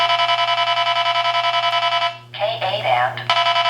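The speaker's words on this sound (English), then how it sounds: "the detector will still give you the audio alert" An Escort Redline radar detector sounds a loud, steady electronic tone, close up, broken by a brief warbling change partway through before the tone resumes.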